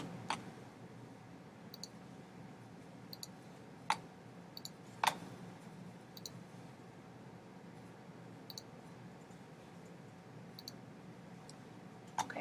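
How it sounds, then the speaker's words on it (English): Computer mouse clicks while choosing gradient colors in design software: sparse, sharp single and double clicks at irregular intervals, faint and close, over a quiet room hum. "I'm going to click on each color and change the colors to something that I like"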